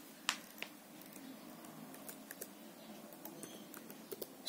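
Computer keyboard keys tapped at a sparse, irregular pace, faint and close, a few sharper clicks standing out from a quiet room hum.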